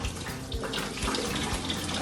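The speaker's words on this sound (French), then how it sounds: "Je vais pouvoir arrêter le robinet parce que je suis la seule à y avoir touché." Water runs steadily from a sink faucet in a school washroom, a close, constant hiss and splash throughout.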